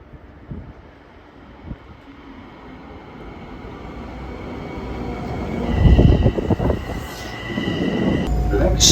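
A Long Island Rail Road commuter train rumbles along the rails, building from a low distant roll to a loud clattering pass with rhythmic wheel clicks and a brief high squeal near the end.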